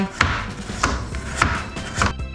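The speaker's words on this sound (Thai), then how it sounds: "หั่นเป็นชิ้นเล็ก ๆ ปลาเค็มพรีเมียม" Premium salted fish being chopped into small pieces on a kitchen board for salted-fish spaghetti: four sharp, evenly spaced knife strikes, close and clear, with soft rubbing between them.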